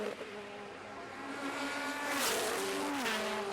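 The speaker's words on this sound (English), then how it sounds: "Just sit here and listen to these cars coming by all day long." Race cars on the Kirkistown circuit in Ireland during a BOSS Ireland race, engines whining past at a distance, pitch sliding as they pass and a louder surge midway.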